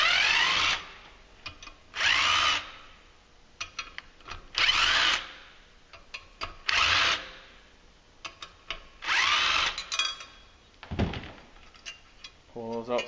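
An impact driver takes number 30 Torx bolts out of the clutch on a 2014-15 Arctic Cat 700 Wildcat Trail/Sport ATV, firing in about six sharp, loud rattling bursts separated by pauses, with someone speaking between them.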